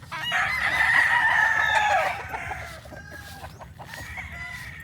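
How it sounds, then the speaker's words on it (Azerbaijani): A rooster crows loudly nearby in one long drawn-out call, followed by fainter crowing and clucking from other fowl against a low rumbling outdoor background. "Məxsus xoruzlar bax."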